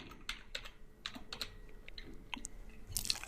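Quiet, close computer keyboard typing, a scattered run of soft individual key clicks with short pauses between them.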